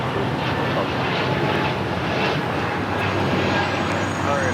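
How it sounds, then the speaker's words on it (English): Porter Embraer E2 jet taking off from runway 25 right at LAX, a steady, moderately distant engine roar holding level throughout with a broad, even rush and no clear build or fade. "We do have an E-Jets, an E2, Porter taking off back to Toronto"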